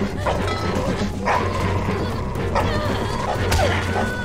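A dog attacks and barks in The Walking Dead Season 2 Telltale video game. Several sharp barks and yelps come in quick bursts, mixed with scuffling crashes over the game's ambient sound.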